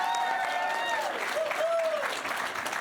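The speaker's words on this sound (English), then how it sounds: "Give him a round of applause." A studio audience claps in continuous, dense applause, with cheering voices rising above it throughout.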